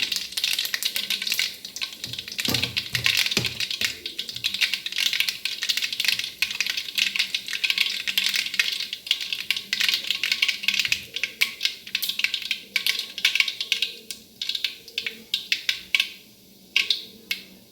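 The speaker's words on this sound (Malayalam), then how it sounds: "കടുക് പൊട്ടിച്ചു. കടുകിട്ടു, പൊട്ടിയില്ല കടുക്." Dense crackling and rapid popping, like mustard seeds bursting in hot oil, fizzing continuously at close range with sharper pops scattered throughout.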